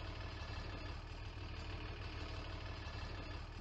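A tractor engine in Farming Simulator 19 runs in a steady, loud, low rumble close by, idling with an even throb throughout and no talking.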